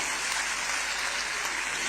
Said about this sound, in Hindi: ऊपर से तालियों की आवाज कम आ रही है, जरा जोर से बजाइए।